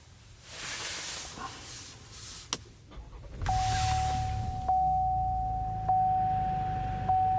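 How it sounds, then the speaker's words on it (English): A Cadillac XT5 Luxury starts up, heard from the driver's seat. A soft hiss comes first, then the engine catches with a low rumble that settles into a steady idle, and a thin electronic tone sounds over it. "So now we have the vehicle fully started."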